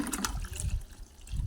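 Water gushes from a supply line into a storage tank and buckets at a Kathiyawadi home, an uneven splashing rush that surges and eases in short bursts, close by.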